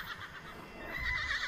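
A horse whinnies in the survival video game Sign of Silence, a faint, high, wavering neigh that rises and trembles toward the end over a soft background hum.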